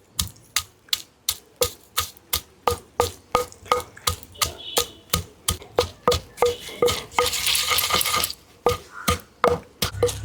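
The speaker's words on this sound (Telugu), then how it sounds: "చిన్నులపాయలు కూడా వేసేసుకుందాం. చక్కగా ఇలా నూరుకుందామండి." Small onions with coarse salt pounded in a mortar: steady, evenly spaced thuds close by, a brief grinding rasp partway through, no talk.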